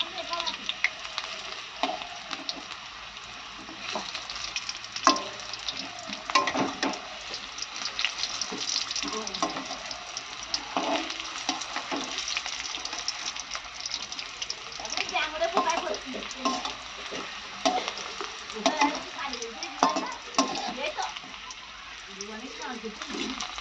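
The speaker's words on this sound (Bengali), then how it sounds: "আলুটা আমার ভাজা হয়ে গেছে, একটু লাল লাল করেই ভাজছি" Potato slices fry in oil in a pan with a steady, close sizzling hiss and bubbling that keeps going throughout, while a voice speaks over it now and then.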